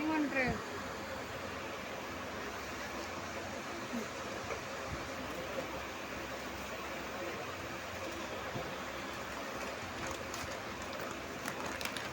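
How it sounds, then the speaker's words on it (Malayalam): A train rumbles steadily as it pulls into a station on the Vaniyambalam to Shoranur Junction line, a constant low rolling noise with faint background sounds throughout. "കൃത്യം 4:28 തന്നെ നമ്മൾ ട്രെയിൻ എത്തിയിട്ടുണ്ട്"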